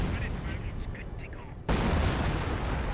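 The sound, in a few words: 25-pounder artillery barrage in the video game Company of Heroes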